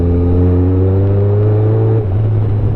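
Engine of a Kawasaki Concours 14 or Yamaha Super Tenere motorcycle while riding, a loud, steady, smooth hum that holds one pitch and then dips slightly near the end.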